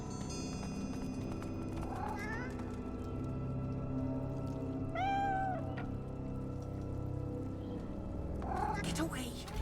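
A cat in Divinity: Original Sin II gives several drawn-out meows spread across a dense, steady ambient bed, one louder mid-way and another near the end, with no talk over it.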